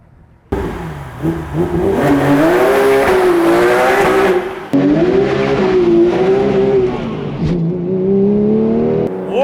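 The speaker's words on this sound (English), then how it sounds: "She was spinning those tires. Bro, it was smoking them out of first gear." A Porsche GT3 launches hard at a drag strip, its engine roaring loud and close as the rear tyres spin and smoke out of first gear, revs climbing and dipping through a gear change.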